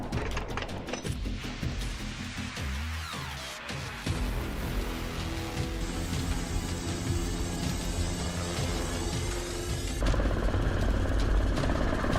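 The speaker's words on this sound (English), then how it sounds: "The scene shifts to hunting from a helicopter." Loud, continuous helicopter rotor thumping and engine whine, close by, with shifting tone as the craft moves during a wild boar hunt.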